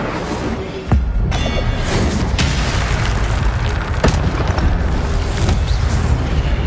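Incendio fire spell cast during combat with guards in the video game Hogwarts Legacy: a sharp booming burst near the start, followed by a dense roaring rumble with further thuds and pops, loud throughout and with no speech.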